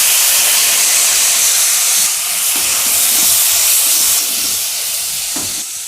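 Chopped country tomatoes hit a hot pan for tomato chutney, producing a loud, steady broadband sizzle and hiss close by that fades slightly toward the end.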